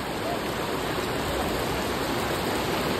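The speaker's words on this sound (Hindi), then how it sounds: "इतनी तेज़ बारिश आ रही है ना, पूरी रोड पे पानी पानी हो रखा है" Heavy rain pours down steadily on a road, a dense, loud, unbroken hiss of falling water with no voices.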